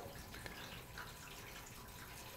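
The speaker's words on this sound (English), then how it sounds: "wash the brush" A paintbrush being washed with mild soap and water, giving soft, continuous wet sloshing and dripping sounds at low level throughout.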